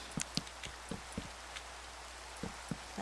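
Rain in Minecraft falls as a steady soft hiss, with scattered brief tapping drops on the surface, faint and even throughout with no voices.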